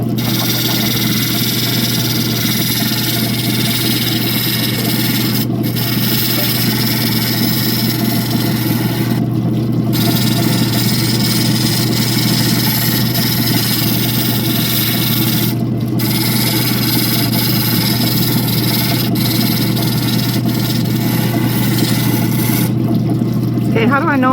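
An opal is ground against a cutting wheel with a steady, continuous whirring hum and wet rasping contact that holds at an even level throughout, with a few brief dips where the stone lifts off.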